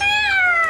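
A Little Live Pets toy dragon lets out a single short, loud, high-pitched electronic roar that sounds just like a cat's meow, close up and alone.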